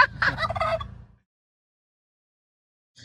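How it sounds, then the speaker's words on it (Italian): A turkey gobbles loudly and close by for about a second, a rapid rattling call, followed by silence. "Tacchino! Tacchino!"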